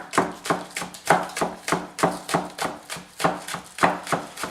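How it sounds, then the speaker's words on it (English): A knife mincing green onions on a cutting board, fast regular chopping strokes about three per second, crisp and close with no voice over them. "Throw them over here, and we're just going to mince those."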